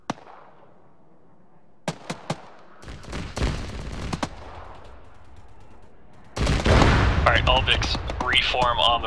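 Rocket impacts and cluster bomb blasts in Arma 3 arrive as a few sharp bangs, then a rumbling barrage and a loud, dense burst of explosions near the end, with radio-style voices talking over them.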